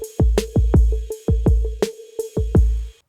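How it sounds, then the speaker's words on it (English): The drum beat "87 Rebel 0" plays back in the Electro app, with punchy electronic kicks and snappy hits in a quick repeating pattern, loud and clean before stopping abruptly. "We have this beat loaded up, 87 Rebel 0, sounds like this."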